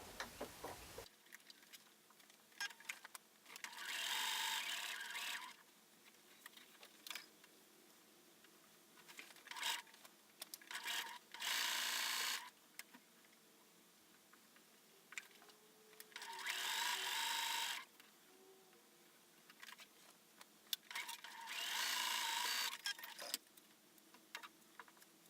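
A sewing machine stitches quilt block pieces for a star quilt block in several loud, steady runs of a few seconds each, with quiet pauses and small handling clicks between them; close, with no talking.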